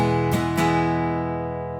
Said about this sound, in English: let's talk about the strumming pattern that I'm playing